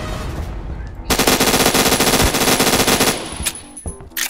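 Rapid gunfire in the online game Roblox, a dense burst of shots lasting about two seconds, loud and close, followed by a few scattered single blasts.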